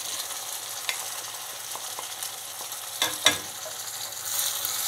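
Masala with onions and tomatoes fries in a pan for okra, a continuous hiss of sizzling oil with a few light clinks and scrapes of stirring, no voices.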